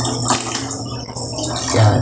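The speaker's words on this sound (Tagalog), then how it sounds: "O dagdagan natin ng tubig." Water pours into a cooking pot holding tamarind and onion, a close, loud, steady splashing gush lasting about two seconds.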